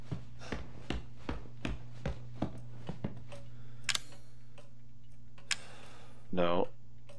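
A pendulum clock in the Resident Evil 7 horror game ticks in a steady, evenly spaced rhythm over a low hum, followed by a couple of brief mechanical clunks and a short low groan.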